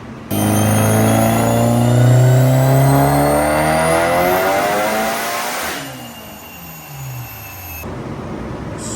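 A Mitsubishi Evo 9 engine revs hard under load during a tuning pull, the pitch climbing steadily and loudly, then the throttle lifts and the engine drops back to a lower drone.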